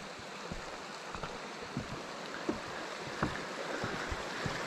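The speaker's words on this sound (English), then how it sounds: "I guess this is Hell Roaring Creek." Hell Roaring Creek rushes through the Sawtooth Wilderness in Idaho with a steady, moderately loud flow, broken by small splashes and gurgles close by.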